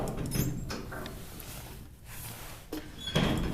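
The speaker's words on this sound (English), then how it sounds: "But the doors will close first." Doors of a 1980 Kone traction elevator closing in Siilinjärvi, Finland, a sliding rumble with a few mechanical clicks and a soft thud at the end, heard fairly close.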